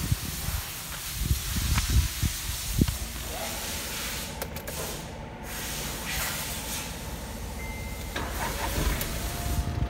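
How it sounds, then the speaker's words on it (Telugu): A 2012 Volkswagen Vento diesel car engine turns over and catches, settling into a steady idle with hissy, broadband noise that continues throughout. "పర్ఫెక్ట్గా స్టార్ట్ అయింది ఫ్రెండ్స్ బండి అయితే"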